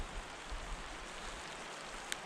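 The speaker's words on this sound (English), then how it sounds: "It blocks the rain." Steady, fairly faint rain falls just outside a cave on a creek hike in a state park, a dense even hiss with one tiny drip near the end.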